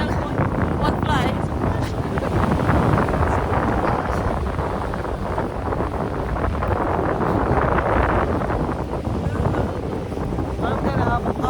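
A steady roar of wind buffets the microphone on a cold, windy morning at White Rock Beach, rumbling and blustering without a break for over ten seconds.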